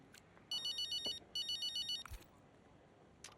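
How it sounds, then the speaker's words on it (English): An incoming-call ringtone sounds in the F1 25 racing game, two bursts of rapid electronic trills, loud and clear over a quiet background with no talking. "Phone call."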